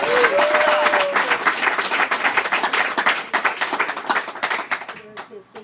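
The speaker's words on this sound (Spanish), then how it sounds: "Claro que le puede regalar un aplauso tremendo al Señor." A church congregation applauding the Lord, a loud burst of many hands clapping that thins into scattered claps and fades out, with a voice briefly heard at the start.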